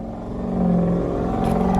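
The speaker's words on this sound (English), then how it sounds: "it's all starting with getting this damn van started" A van's engine runs with a steady low rumble after its battery has been replaced, swelling slightly in loudness and then holding a close, even drone.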